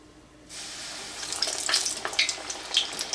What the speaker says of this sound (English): now I'm getting ready to start frying